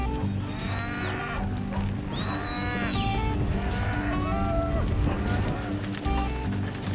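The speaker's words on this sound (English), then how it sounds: "This is Facundo, who looks after 400 head of cattle" A herd of cattle moos repeatedly in Patagonia, long rising and falling calls overlapping one another above a constant rumbling background, while a narrator talks over the scene.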